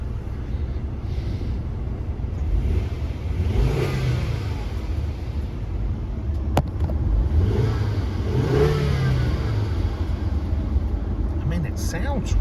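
A 2014 Volvo S60 T5 with front-end damage idles while warming up, a steady low engine hum from inside the cabin with a couple of gentle swells in revs and faint clicks of interior controls.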